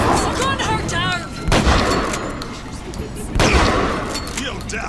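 Video game gunfire crackles in bursts, with two heavy blasts standing out loud and close, while voices shout over the shooting.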